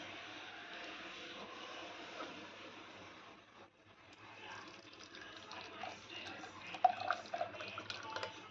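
Crushed crab being strained by hand, liquid squeezed out and dripping and splashing into a bowl, soft and close, growing busier and more irregular after a short pause midway.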